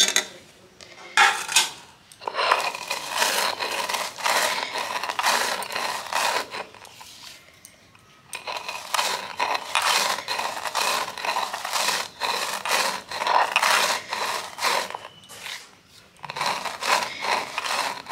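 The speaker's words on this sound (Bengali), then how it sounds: "তো শিলে আমি এখন বেটে নেব।" Spices being ground by hand on a traditional stone slab (shil) into a fine powder, scraping and clattering in steady strokes with a brief pause midway, close and fairly loud, no voices.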